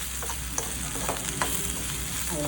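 Ivy gourd (kovakka) fry being stirred in a hot pan, a soft continuous sizzle with a few light scraping strokes of a spatula, no talking.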